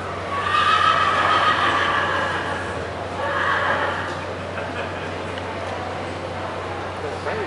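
A horse whinnies twice, a long shrill neigh followed by a shorter one a few seconds later, over a low steady hum.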